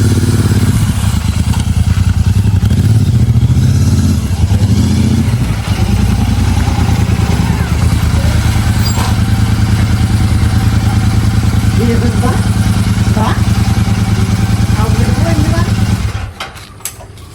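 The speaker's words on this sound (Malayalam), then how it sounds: "അവന് ആ വണ്ടിയുടെ സൗണ്ട് കേൾക്കുമ്പോൾ എക്സ്പ്രഷൻ കിട്ടാൻ വേണ്ടി ആ വീട്ടിൽ പോയിട്ട് ബൈക്ക് എടുത്തിട്ടുണ്ടായിരുന്നു" A motorcycle engine runs loud and close with a steady low rumble and mechanical clatter, then cuts off abruptly near the end.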